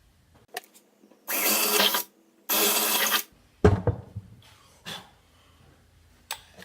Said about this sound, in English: So I've marked where I want to drill the holes.